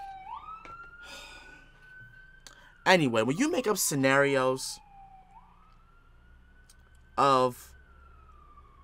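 Police sirens wail in the background with a rising and falling tone, moderately distant and fairly faint, sounding under and between a man's speech that repeatedly breaks in over them.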